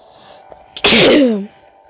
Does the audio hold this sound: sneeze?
yes